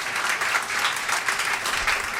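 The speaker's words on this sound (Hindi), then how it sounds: "दोनों के लिए तालियां।" A crowd at a cricket tour event applauds for sponsors, producing brief, dense clapping that stays loud and even across the room, with no speech over it.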